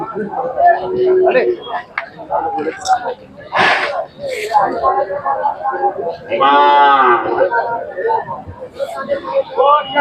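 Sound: cattle mooing

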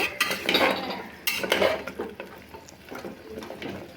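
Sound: stirring goat trotter curry with chopped coriander leaves

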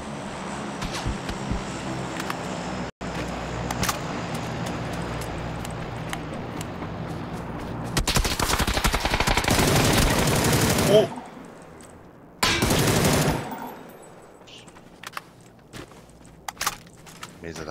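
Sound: gunfire in a video game

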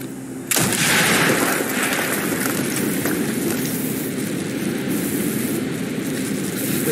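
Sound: explosive blowing a hole in a wall in the video game Call of Duty Black Ops

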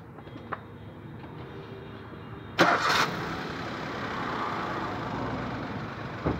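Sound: Maruti Suzuki Alto 800 car engine starting

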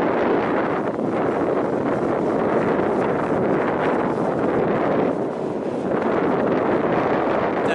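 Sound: wind

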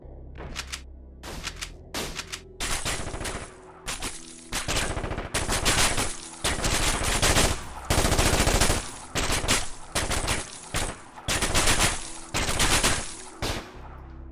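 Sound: enemy gunfire in the video game Ground Branch

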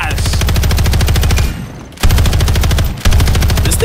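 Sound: LMG firing in Modern Warfare 3 video game

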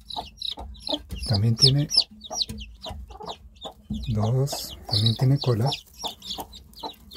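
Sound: chicks of coyunco rooster and tailed hen crossbreed

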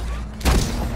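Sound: gunshot in video game Slipgate

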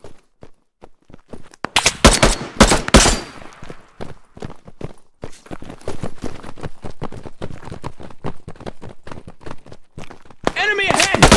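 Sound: gunfire in the video game PMC

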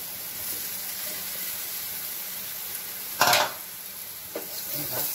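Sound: boiled jackfruit added to the pan and stirred

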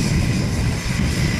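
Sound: small tractor engine running

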